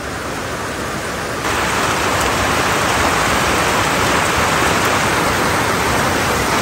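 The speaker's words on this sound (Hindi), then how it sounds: "बादल गरज रहे, बारिश हो रहा है गाइस।" Heavy rain pours down in a strong, gusty wind during a stormy spell, a dense, steady roar that swells louder partway through and continues without a break, with no voices.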